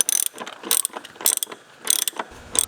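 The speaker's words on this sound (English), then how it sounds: "Undo the 4 bolts." Ratchet wrench clicking in quick bursts while undoing the four bolts on the engine air filter housing of a 2014-2018 Chevy Silverado or GMC Sierra truck; four separate runs of sharp pawl clicks, close and loud, with short pauses between.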